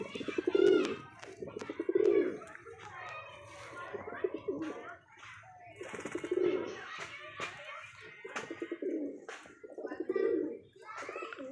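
Madrasi pigeons cooing up close, a deep throaty coo repeating roughly every two seconds, with faint chirps from a young bird in between.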